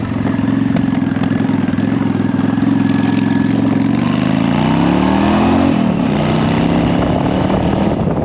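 A Honda Shadow 750 street motorcycle, 18,000 miles on it and freshly tuned, runs loud and close, idling steadily before the revs climb and drop back around the midpoint, with the exhaust holding a constant throaty drone throughout.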